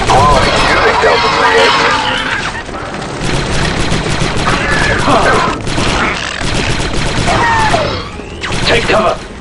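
Heavy blaster gunfire in the Star Wars Republic Commando video game crackles in sustained, loud volleys with booming impacts and mechanical clatter, while soldiers' voices speak over the battle.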